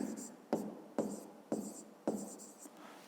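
Pen or marker scratching on paper as figures are written out during a fifth-grade math exercise, short scratchy strokes in a quick rhythm with sharp taps between, close and quiet.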